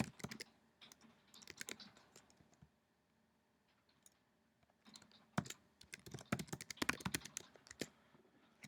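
Keys clatter on a computer keyboard as a username and password are typed into a VPN login portal on a Mac, faint and close, in two quick bursts separated by a pause of about two seconds.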